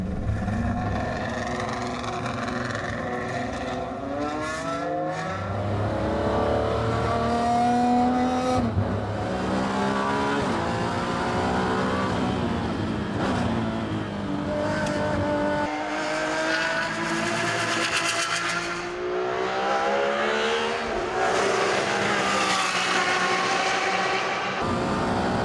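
A Ferrari 599XX race car screams around a track, its engine rising and falling in long high-pitched sweeps through repeated gear changes, loud and continuous as if heard from onboard.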